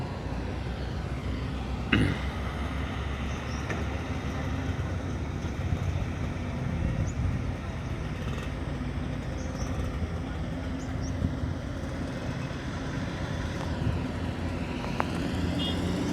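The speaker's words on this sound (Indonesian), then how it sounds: "ada beberapa truk yang lalu lalang membawa atau melansir tanah timbunan di kawasan ini" Heavy trucks haul fill soil along a toll road construction site near a river bridge in West Sumatra, a continuous low rumble of engines and rolling traffic, steady and moderately distant, with a brief louder burst early on.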